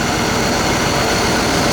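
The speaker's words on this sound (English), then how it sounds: "As you can see, this engine cranks right up" A 300 hp LT1 V8 in a 1992 Chevrolet Corvette C4, running at a steady idle, loud and close, a dense continuous engine drone with no talk.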